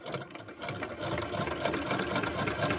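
A sewing machine runs a quarter-inch seam down a pumpkin spice quilt piece, its rapid needle chatter whirring steadily and close for a few seconds.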